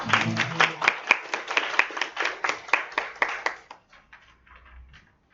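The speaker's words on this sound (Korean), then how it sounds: "큰 박수 부탁드리겠습니다." An audience at a bio-industry lecture applauds to welcome a university professor, a few seconds of moderately dense clapping from a smallish crowd that tapers off quickly into quiet.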